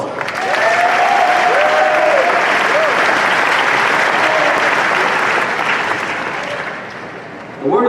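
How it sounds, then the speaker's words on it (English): A crowd at a high school commencement ceremony in Medford gives a loud, sustained round of applause that fades slightly toward the end, with a few faint voices underneath. "Let's give them another round of applause."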